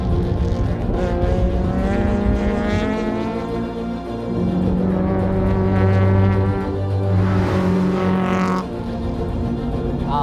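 A 2013 Honda Civic Si daily driver at an FF Battle track event revs hard with a loud, sustained engine note that climbs as VTEC engages, steady and close throughout with no talk.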